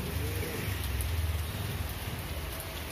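Summer rain falls in a steady, dense hiss close by, with no voices, and a faint bird may call in the background.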